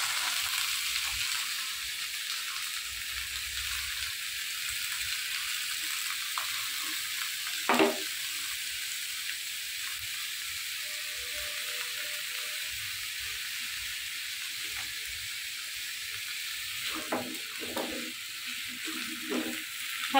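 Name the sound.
frying ash gourd pieces with salt and turmeric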